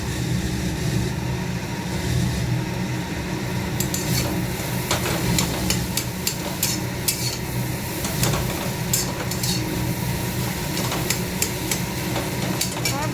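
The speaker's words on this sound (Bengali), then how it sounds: "এই যে কচুটা ভেজে নিচ্ছি, একটুখানি কড়াইতে ঢেলে নেবো সিদ্ধ করে" Boiled taro (kochu) fries in a kadai while being stirred, a loud, continuous dense sizzle with frequent scraping strokes throughout, near and with no voices.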